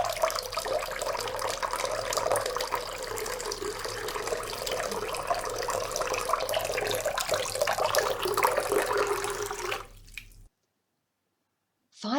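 A tap runs continuously into a sink during washing up, a steady splashing trickle that stops abruptly near the end.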